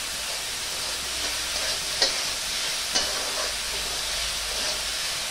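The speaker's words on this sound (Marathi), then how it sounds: "थोडंसं अंदाजाने मी मीठ घालते, म्हणजे हा कांदा पटकन खरपूस असा परतला जाईल." Onion frying with salt in a pan while being cooked for Nashik-style misal, a steady close sizzle with a couple of sharp stirring clicks from a spatula.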